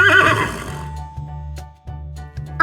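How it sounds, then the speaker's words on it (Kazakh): A horse whinnies loudly and close up in a shaky, falling neigh, followed by a low steady hum with a few soft knocks. "Ат."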